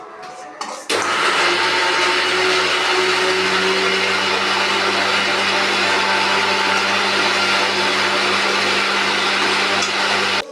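A mixer grinder starts abruptly and runs at full speed grinding a cooking paste, a loud steady whirring grind that continues without pause, no voices.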